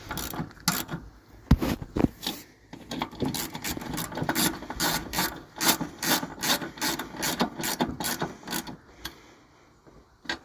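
Rapid clicking of a ratchet snugging down studs fitted with locking washers, in quick repeated bursts of sharp ticks, close and alone with no talk.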